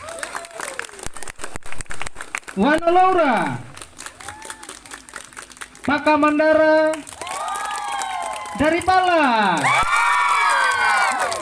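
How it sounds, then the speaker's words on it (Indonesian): Children clap and cheer at a children's Bible storytelling competition, with bursts of loud shouting and whooping cheers rising and falling between stretches of clapping, and a voice speaking briefly among them. "coba mau dengar dulu tepuk tangannya anak-anak dari Goluwatu."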